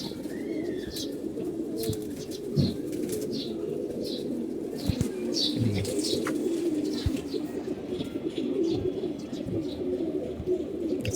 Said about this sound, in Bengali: এরা সাদা কবুতর জোড়া দেখাইতেছি